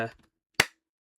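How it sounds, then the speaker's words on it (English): A single sharp hand clap serves as an intro, a crisp lone smack that rings out briefly after a few words of speech fade away. "It's a clap."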